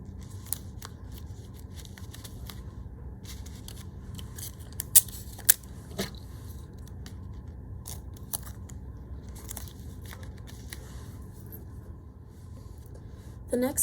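Scissors trim pieces of straw for a robotic hand, giving a series of faint, sharp snips and clicks scattered over quiet background, with a couple of louder cuts midway.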